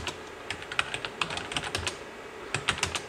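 Irregular keystrokes on a computer keyboard, a scattered series of close, crisp clicks with a brief pause in the middle and no talk.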